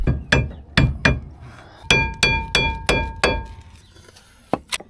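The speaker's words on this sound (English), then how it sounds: "Just have a look at how these brake pads are coming out." Brake pads being hammered out of a car's brake caliper in a garage: a run of sharp metallic knocks, four spaced strikes followed by five faster ringing blows, then a final pair of quick taps, loud and close.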